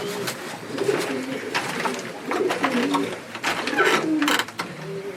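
Racing pigeons coo repeatedly in a pigeon loft during the 2021 season, soft rolling calls overlapping from several birds nearby, with faint rustling and a little background talk.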